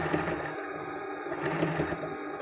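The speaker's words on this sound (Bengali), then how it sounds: "এই যে আমি ঘুরিয়ে নিয়ে এই জায়গায় সেলাই করে দিচ্ছি" A sewing machine stitches a shirt pocket in a tailor's workshop, with a steady close-up mechanical whir that briefly pauses and then runs again.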